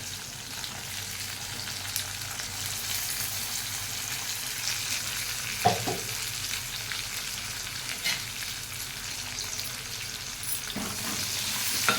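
Onions, green chilies and cumin fry in hot oil in a pan, a steady close sizzle with occasional scraping stirs, no talking.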